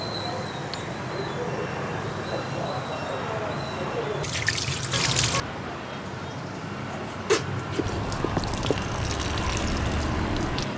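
Water splashing and dripping into a freshly planted GreenStalk vertical planter, a steady trickle with brief louder gushes, close by under low outdoor background noise.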